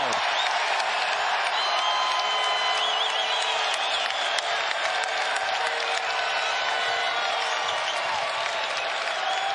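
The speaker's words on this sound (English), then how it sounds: "The Michigan State bench asking for the crowd to get loud." A basketball arena crowd roars and claps during a Michigan State vs Oakland game, a dense, sustained wall of cheering, whoops and applause with whistles and faint commentary talk underneath.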